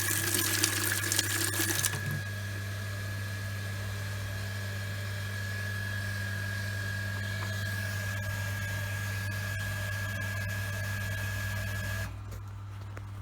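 A workshop water pump cuts back in with a steady mechanical hum and a continuous tonal whine, water flowing beneath it. It runs evenly and close, then stops abruptly near the end.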